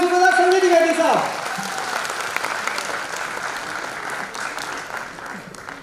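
Hearty applause from an audience at an Indian stage event rolls on in a steady wash of clapping, with a voice over the start before the clapping continues alone.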